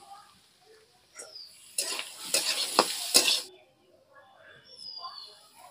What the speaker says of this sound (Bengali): এবার আলুগুলোকে ভালো করে কষিয়ে নেব। মশলাটার সাথে মিশিয়ে ভালো করে ভেজে নেব।